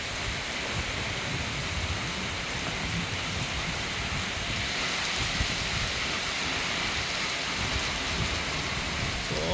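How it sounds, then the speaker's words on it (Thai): Steady rain falls outside a rented room, a dense, even hiss of drops that holds unchanged throughout with no voices. "ฝนมันตกอะเนาะ"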